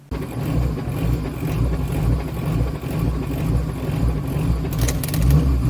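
A Ford Mustang GT with a four-valve engine swap and a slight alternator issue drives along the road. Its engine keeps up a loud, steady drone with road rumble for the whole stretch.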